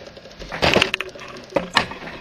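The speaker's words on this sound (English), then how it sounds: "I'm going to go in here and very slowly trim off the excess right along this line with a pair of scissors." Scissors slowly trimming excess material along a line make a series of sharp snips and crisp clicks at an uneven pace, over faint background noise.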